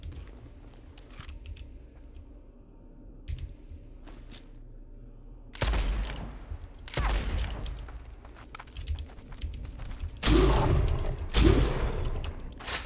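Shotgun blasts in the first-person shooter game Blood West, three loud bursts after a quiet stretch with faint ambient hum, the final pair heavier and closer together.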